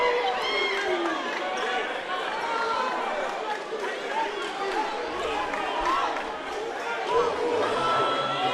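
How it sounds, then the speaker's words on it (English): A basketball arena crowd at a TBT 2019 game between Jackson TN Underdawgs and Southern Gentleman keeps up a steady, loud roar of chatter and cheering, with sneakers squeaking and balls bouncing on the court beneath it. "There's some intensity to this atmosphere, this crowd."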